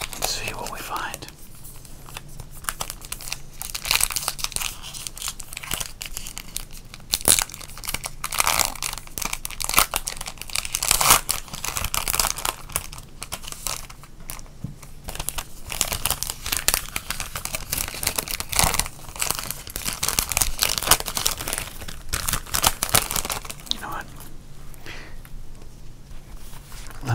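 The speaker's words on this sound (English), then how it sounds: "We're going to open up this pack of cards and see what we find." A pack of sports cards is torn open, its wrapper crinkling and crackling in close, soft bursts while a person talks quietly over it, with rain steady in the background.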